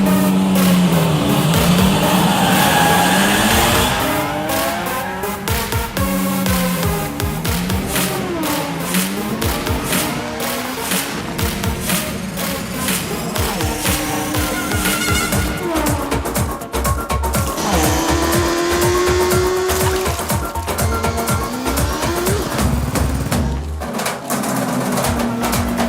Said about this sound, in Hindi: अब शुरू होगी असली रेस, बस देखते जाओ रंगीला।